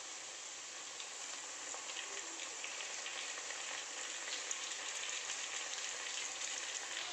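Potatoes with freshly added chopped tomatoes fry in a pan, giving a steady, close sizzle and hiss throughout with faint stirring clicks and no voices.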